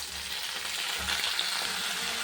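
Potato, okra, onion, tomato and green chili fry in hot oil in a pan, giving a steady close sizzle with faint stirring throughout a short stretch, and no voices.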